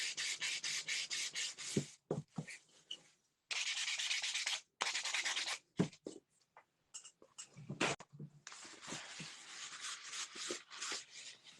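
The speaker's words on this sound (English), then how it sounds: "I'm going to give this a really light sanding." A laser-cut piece gets a light hand sanding, with repeated bursts of close, dry scratchy rubbing strokes in uneven rhythm, separated by brief pauses and small knocks.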